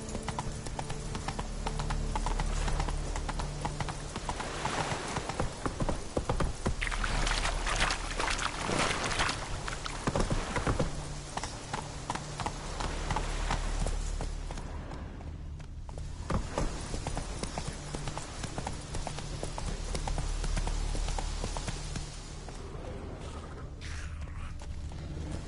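Roach, the horse from the video game The Witcher 3, clip-clops steadily along with a continuous rhythmic hoof beat, joined by faint creaks and ambient background texture.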